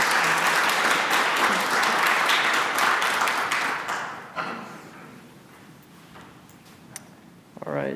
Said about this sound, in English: Please applaud as he comes to the stage.